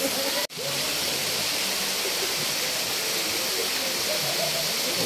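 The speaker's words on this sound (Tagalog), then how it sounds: "Ayan, ayan yung falls oh." Kakawayan Falls in Infanta, Quezon roars as a steady, dense wash of falling water, loud and continuous throughout, broken only by one brief dip near the start.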